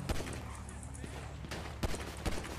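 Gunfire in GTA V Online: a few sharp, loud single shots crack out against steady game background noise, with someone talking faintly underneath.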